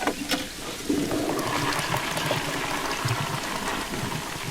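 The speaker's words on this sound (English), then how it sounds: "that turns on the water, so the water now goes into the system" Water rushing into pipes after a valve is turned in the Resident Evil 7 video game, a steady broadband flow with faint trickling, a louder surge about a second in, holding constant to the end.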